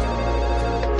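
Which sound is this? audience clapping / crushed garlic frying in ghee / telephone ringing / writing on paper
telephone ringing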